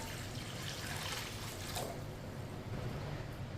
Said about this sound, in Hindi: अब इसमें मैंने पानी डाल के 10 मिनट के लिए रख देंगे।